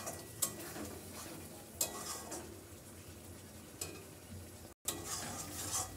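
Spice paste frying in oil in a pan, a soft continuous sizzle broken by a few sharp spoon-on-pan knocks and stirring scrapes, fairly quiet, with a momentary dropout near the end.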